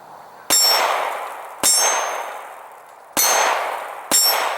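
A 1911 pistol's rounds strike a steel target about 15 meters away, giving four loud, ringing metallic clangs at irregular intervals, each fading slowly, with no voices.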